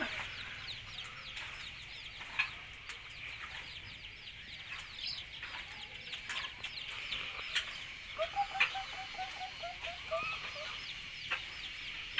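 Chickens cluck softly and repeatedly, with a quick run of louder clucks toward the end over a quiet farmyard background.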